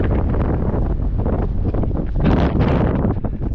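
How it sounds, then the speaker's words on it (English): Loud wind buffets the microphone in continuous rough gusts at Red Rock Canyon near Las Vegas, Nevada, a heavy rumbling roar with no other sounds coming through. "Sorry, it's windy."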